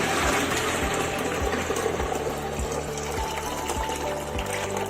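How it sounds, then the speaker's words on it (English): Water gushes steadily from an Arduino-controlled automatic flush tank into a toilet commode, a continuous close rush with a regular mechanical thump from the pump or servo underneath. "water drain into the commode and commode get clean."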